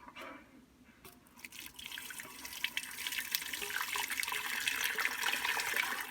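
Maple sap pours from a container into a cooking pot, a steady close splashing stream that builds in loudness and runs continuously to the end, with no voices.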